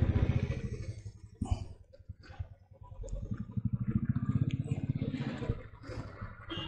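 A motorbike rides through congested traffic beside stuck vehicles and a truck, its engine chugging in a rapid throbbing pulse up close, with clatter and scraping around it and a rider talking over the ride.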